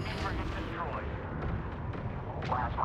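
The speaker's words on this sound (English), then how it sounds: "frigate destroyed" An enemy frigate blows up in the space strategy game Homeworld 3, making a steady rumbling explosion under game voices and a few crackling bursts.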